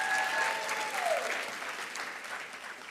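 Applause for honored classified school staff at a district recognition celebration, a soft, distant wash of many hands clapping steadily as a fading tone dies away, gradually tapering off.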